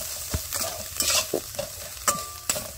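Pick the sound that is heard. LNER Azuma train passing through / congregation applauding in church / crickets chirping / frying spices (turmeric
frying spices (turmeric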